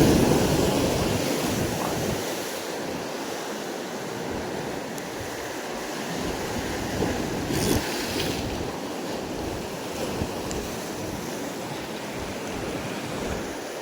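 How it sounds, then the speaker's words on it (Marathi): Sea waves wash continuously onto the shore during seaside rod fishing, a broad, steady roar of surf with wind buffeting the microphone and no voices. "लाट मारू दे."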